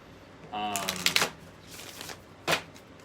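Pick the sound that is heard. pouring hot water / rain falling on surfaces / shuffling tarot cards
shuffling tarot cards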